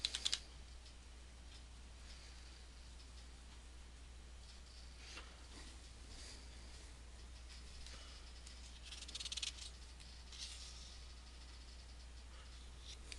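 Typing on a computer keyboard during a Windows configuration task, with faint, sparse key clicks in short bursts over a low steady hum, with no voices.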